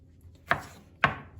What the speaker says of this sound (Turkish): Sebzeler çok ufak doğramayacağız.